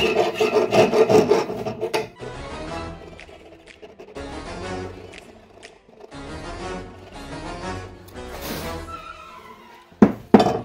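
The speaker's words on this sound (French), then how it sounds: "la râpe, c'est pas pour la finition, c'est juste pour manger la petite bande de rouille qui s'est fait entre les 2 cylindres blocs" A hand rasp scrapes a strip of rust from between two cylinder blocks while a Citroën XM is prepared for a V6. Rough, rhythmic rasping strokes repeat over about ten seconds, with tonal music-like sound mixed in and a sharp knock at the end.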